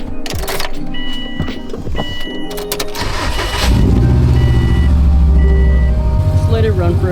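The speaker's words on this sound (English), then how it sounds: "Turn the car on." A car engine cranks and starts up after an oil change, then settles into a loud, steady idle close by; clicks and handling noises come first.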